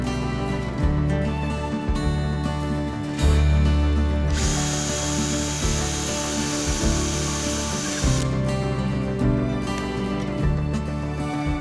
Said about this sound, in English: I am using a drill. Like this I can make a nice hole where everything fits